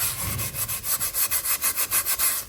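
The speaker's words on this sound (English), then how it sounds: "I don't want to rub too hard" Soft side of a sponge rubbed over an antique copper pot in steady back-and-forth strokes, a regular rhythmic scrubbing close up, about a dozen passes with no talk.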